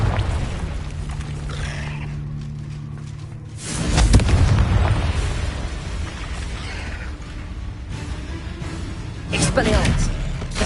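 Confringo blasting spells explode in Hogwarts Legacy inside a cave: two heavy booming blasts a few seconds apart, each with a rumbling tail, over game ambience and a person talking.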